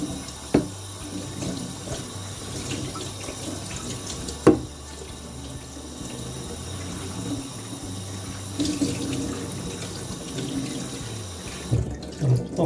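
Water runs from a tap into a sink during washing, a steady close rush with a few sharp knocks and clinks of items against the basin, with no talk.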